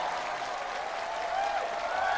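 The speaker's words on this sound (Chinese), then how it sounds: "再次用热情的掌声欢迎我们的天赐逐梦官" An audience at a televised music show applauds, a dense continuous wash of clapping across the whole short moment.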